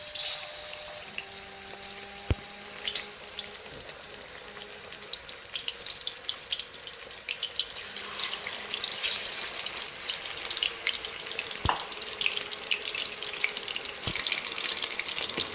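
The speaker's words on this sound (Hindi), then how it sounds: "चलें जी, हम भी इनको करते हैं फ्राई" Quail coated in masala frying in oil over medium heat, a steady broadband crackle and hiss that swells louder in the second half, with a few sharp pops, no voices.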